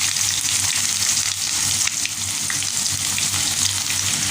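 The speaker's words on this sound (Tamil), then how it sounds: "இப்போ இது சூடாகி வந்ததுக்கு பிறகு இதில் நான் வெங்காயம் சேர்க்க போகிறேன்" Onions fry in hot oil with mustard and cumin for Sri Lankan-style chicken, making a dense, loud, steady sizzle that dips briefly once and then carries on.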